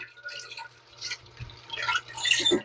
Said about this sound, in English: So I'll use 2 tomatoes and I'll rinse them.